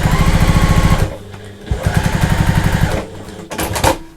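A sewing machine fitted with a zipper foot stitches fabric for a bathroom storage caddy in rapid, loud mechanical bursts, running in several short runs separated by brief pauses.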